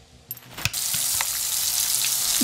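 Fuel pours into a gasoline canister in the SCUM video game, a steady hissing, splashing stream that starts abruptly and runs continuously, close and fairly loud.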